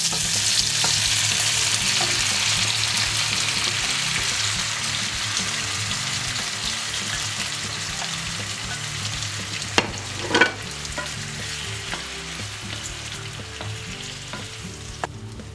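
Tomato dropped into hot oil with chopped garlic and chili, giving a loud, continuous close sizzle that slowly eases, with a couple of brief utensil clinks near the end and no speech.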